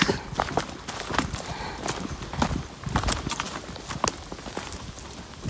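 Horse hooves clip-clop along a hiking trail toward Wong Chuk Kok Tsui, an irregular run of close, sharp knocks over outdoor background noise.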